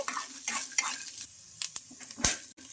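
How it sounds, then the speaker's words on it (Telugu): Peanuts fry in oil in a pan, the same oil used for poha and moong dal vadas, with a steady low sizzle broken by several brief scraping bursts of stirring, close and moderately loud, with no talking. "ఈ పల్లీలు కూడా బాగా ఫ్రై చేసుకోవాలి ఇదే ఆయిల్లో"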